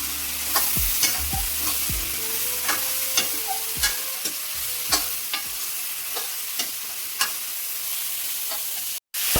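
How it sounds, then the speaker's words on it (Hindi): Potato and cauliflower frying with red chili, salt and spices over a low flame, with a spoon scraping the pan in regular clicks above a steady low sizzle. The sound drops out briefly near the end. "मंदी आंच में ये मसाले के साथ सब्जी भुन जाएगी, अच्छे से फ्राई हो जाएगी।"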